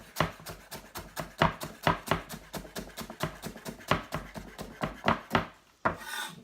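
Fresh coriander, stalks and leaves, is chopped with a knife on a wooden board in quick, even strokes of sharp, close taps that run steadily before a short rustling pause at the end.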